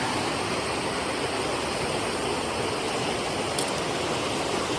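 Water from a waterfall and stream along the Appalachian Trail rushes in a dense, steady roar, close and unbroken throughout, with no voices.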